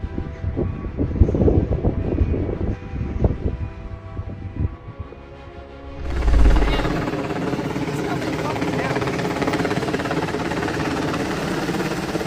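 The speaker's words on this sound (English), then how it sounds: "A Mi-26 helicopter crashed into the snow-covered ground while attempting to land in Russia." A Mi-26 helicopter comes down onto snow-covered ground while landing in Russia. A low rotor drone and uneven thumping give way midway to a sudden, loud, sustained broadband roar that stays steady to the end.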